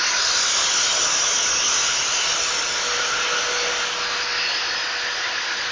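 An Alloyman electric drywall sander with a dust bag attached runs continuously, a loud, close, steady whooshing motor hiss with no breaks and no talk.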